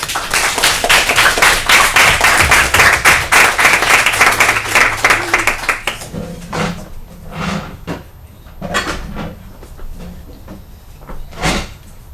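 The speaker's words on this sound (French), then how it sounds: "Je vous demanderai de les applaudir," An audience at a French parliamentary-style debate competition quarter-final applauds the two teams, loud dense clapping for about six seconds that then breaks off, leaving scattered knocks and shuffling sounds in a quieter room.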